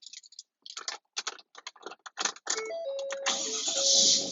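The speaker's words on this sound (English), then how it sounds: "I'm going to go ahead and start the engine." A 2011-2016 Ford Super Duty truck engine is started: a run of clicks and cranking bursts catches into a steady idle with whining tones, close and fairly loud.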